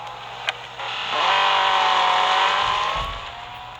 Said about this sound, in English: Up next is my 1987 Ferrari F40.